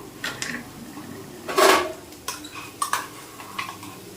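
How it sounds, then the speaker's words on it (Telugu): Thick ground masala paste going into a pan of baby Pandugappa fish curry, heard as scattered clinks and scrapes of a spoon against the pan, with one louder clattering burst in the middle, close and without talk. "ఇలాంటి ఈ పేస్ట్ని ఇది వేసుకుంటున్నాను"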